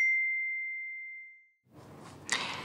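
A single bright bell ding rings out and slowly fades, followed by a burst of louder noisy clatter and rustling.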